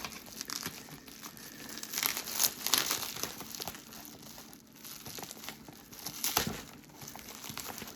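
Tape peeled from plastic packaging on a mail delivery of die-cast toy cars, heard up close as repeated crinkling and crackling with sharp tearing bursts, steady throughout without talk.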